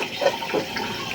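Kitchen tap water runs briefly into a frying pan to soak off sticky, sugary residue left from cooking marinated milkfish; a short, steady splash with no talking.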